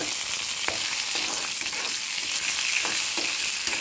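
Curry leaves and dried chillies tempering in hot oil hiss with a bright, steady sizzle, dotted with small crackles and pops, heard close and without any talking.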